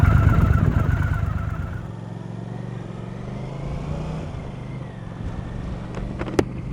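A 1983 Honda CX650 Turbo V-twin motorcycle engine rumbles steadily while riding, with wind rushing past the microphone and the engine note dropping slightly partway through.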